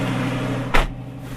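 A single solid thump of a Lamborghini door shutting in winter, sharp and close, over a steady low engine hum.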